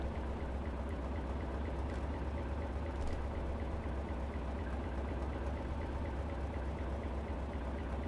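Steady low engine hum from a diesel train in Train Simulator 2021 on a London to Brighton route, a constant moderate drone with no change in rhythm and no talk.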